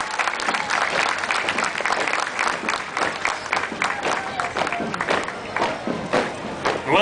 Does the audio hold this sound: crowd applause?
yes